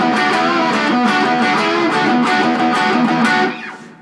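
Distorted electric guitar plays a strummed double-stop riff in a punk-rock manner, repeated chord stabs ringing steadily and loud before cutting off near the end.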